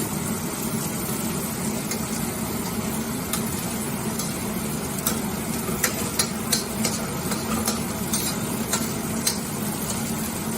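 Garlic and food sizzling in a hot pan while a ribeye is cooked, a steady dense frying hiss with occasional sharper crackles and pops, close and continuous, with no talking.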